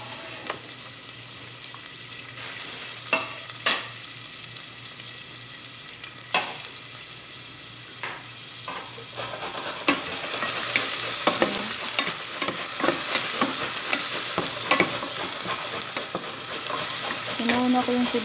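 Chopped onions sizzle in a hot pan for Filipino chicken sotanghon soup, a steady frying hiss with scraping stirs and clinks of a utensil. The sizzle swells louder partway through, with no talking.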